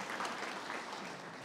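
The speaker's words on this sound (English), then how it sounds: "Can we have a round of applause for our principals and our guests who did a great job?" Audience applause at a district attendance boundaries community meeting in a high school, a steady wash of many hands clapping at moderate distance, even and sustained with no talk over it.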